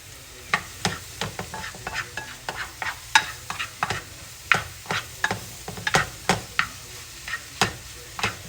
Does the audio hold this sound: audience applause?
no